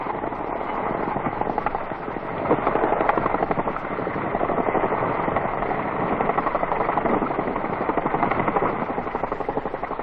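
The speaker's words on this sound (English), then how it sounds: "the relieved unit is flown in Chinook helicopters from Nui Dat direct to HMAS." Chinook helicopters flying units from Nui Dat in 1968 South Vietnam, a loud, steady rapid rotor chop that fills the whole stretch with constant thudding blades and engine roar.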